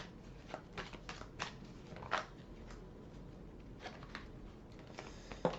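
Tarot cards drawn and laid out one by one for a reading: soft, quiet flicks and slaps of card stock at irregular intervals, close and alone with no talk.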